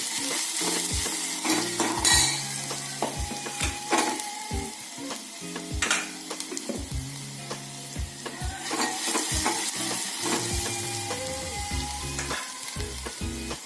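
Oil sizzles loudly in a pot on a gas stove while a peanut curry is being made, a continuous close-up frying hiss broken by repeated stirring scrapes, with no talking.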